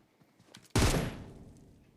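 A single sharp, loud gunshot in the video game PUBG, a sudden blast that rings out and decays, preceded by faint quiet noises.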